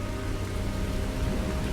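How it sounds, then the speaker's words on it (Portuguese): Heavy, torrential rain pours down in a dense, even hiss with a low rumbling undertone. It is fairly quiet and lasts a brief moment, with no voices. "A chuva caiu forte, torrencial, por toda a terra."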